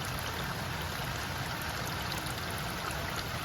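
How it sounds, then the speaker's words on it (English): Water gushing steadily from a gutter downspout pipe into a drainage area during rain, a continuous broadband rush with no breaks, fairly close and even throughout. "and the water's flowing between the two"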